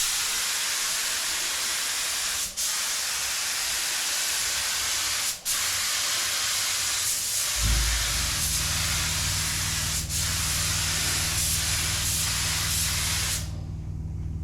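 A steady, loud hiss of a paint spray gun applying Rust-Oleum candy blue paint to a car runs continuously, broken by a few brief pauses in the trigger, with a low hum joining partway through.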